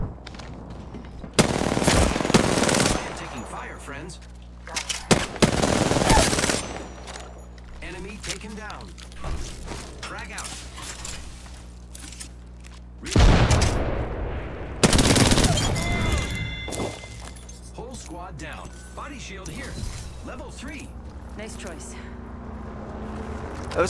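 R99 submachine gun bursts in the Apex Legends game, several loud rapid-fire strings separated by pauses, mixed with reload clicks and other game effects while a player talks over the action.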